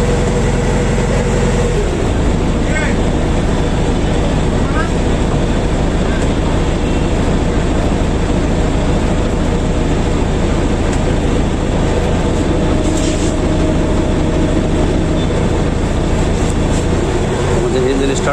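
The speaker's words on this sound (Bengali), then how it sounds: "আমাদের ইঞ্জিন স্টার্ট হলো" A water bus engine on Hatirjheel lake starts and runs as the boat pulls away from the pontoon jetty, a loud, steady, close mechanical roar that settles in after a brief change near the start, with voices faintly beneath it.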